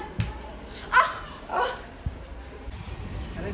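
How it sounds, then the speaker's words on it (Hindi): A dog barks and yips a few times among household sounds, with people talking, in an indoor home setting. "तो देख क्या खतरनाक कुत्ता"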